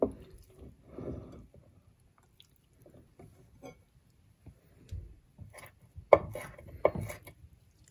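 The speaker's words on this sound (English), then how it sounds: "And we're just gonna chop it up into small pieces." Knife chopping cooked shrimp into small pieces on a board, a quiet scatter of soft, irregular taps that thickens into a denser burst of louder strokes near the end.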